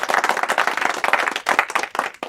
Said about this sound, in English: A round of applause for this man, ladies and gentlemen